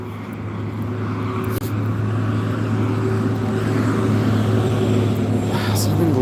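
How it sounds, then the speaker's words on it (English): Loud trucks pass nearby, their heavy engines making a continuous low rumbling roar that builds slightly and stays strong throughout. "So many loud trucks."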